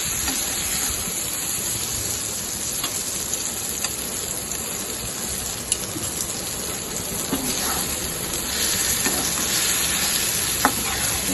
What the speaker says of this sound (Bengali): এটা ততক্ষণ অব্দি টানাতে হবে যতক্ষণ না কড়াই থেকে এটা ছেড়ে ছেড়ে আসবে